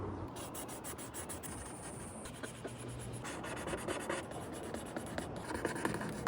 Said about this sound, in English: And now let's start drawing.